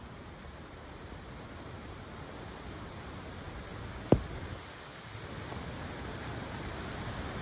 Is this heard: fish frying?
no